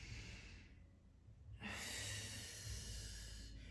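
Steady breathing during a Pilates warm-up: a soft, drawn-out exhale, then a sharper, louder inhale through the nose, close to the microphone.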